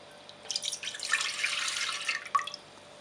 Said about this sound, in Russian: Заливаем наше молоко 400 мл.